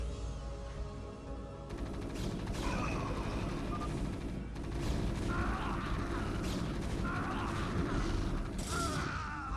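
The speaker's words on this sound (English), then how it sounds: "Ah, the sound of Zealot versus Zealot." Zealots clash in a StarCraft: Brood War match, a dense run of game combat hits, blasts and mechanical effects sounding continuously under light caster chatter.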